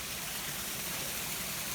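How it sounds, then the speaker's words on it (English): Waterfall heard nearby on a trail, a constant broadband rushing roar of falling water, steady and unbroken. "Not a bad waterfall."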